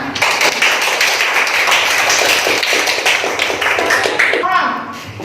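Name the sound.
classroom clapping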